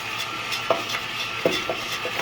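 Coffee beans tumble in a Skywalker Itop drum roaster as they begin to darken, making a steady soft rustling hiss with a few light clicks and knocks, close up and with no talking.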